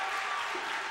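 Crowd roaring and applauding in a packed gym at a high school basketball game between Sacred Heart and Holy Cross, a dense, steady wash of noise for about a second.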